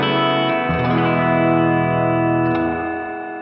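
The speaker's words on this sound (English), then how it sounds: "when I hit the extend control, it's going to cascade the sound into itself" A Cusack Resound V2 reverb pedal with its extend control engaged swells into a dense, sustained cascading wash of reverb, holding loud and steady before slowly fading.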